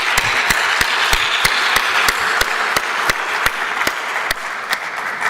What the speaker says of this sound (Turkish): Önce sizi alkışlıyorum.